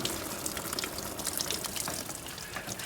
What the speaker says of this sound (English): we can tilt this upside down, and you see a bunch of fuel coming out